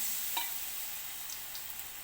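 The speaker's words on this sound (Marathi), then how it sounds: "आता एक एक एक सोडते आता आणि तळून पण निघते ते पटपट पटपट" Thin potato slices for bhaji fry in hot oil, giving a steady, soft, broadband sizzle with a few faint pops, heard alone and fairly quiet throughout.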